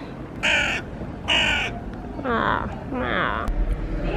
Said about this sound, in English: It's that cool crow again.